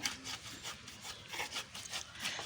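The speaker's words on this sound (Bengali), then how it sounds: "তো আমি এখানে প্রথমেই জিরা বেটে নিচ্ছিলাম" Cumin seeds are ground on a flat grinding stone, giving close, soft rhythmic scraping and rubbing strokes that repeat steadily back and forth at a moderate pace.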